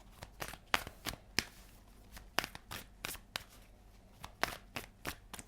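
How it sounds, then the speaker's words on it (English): A deck of tarot cards is shuffled in several quick riffling bursts, close and crisp, separated by brief pauses in a quiet room. "Two more shuffles."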